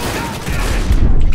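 Cyberpunk 2077 bomb blast: one loud, short, rumbling explosion that swells into a deep boom and holds to the end.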